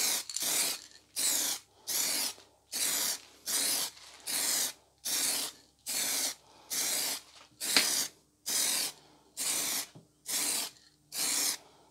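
Short bursts of spray paint laid as a light dusting coat on a projector screen, about a dozen evenly spaced hissing sprays, each under a second, close and steady with brief pauses between.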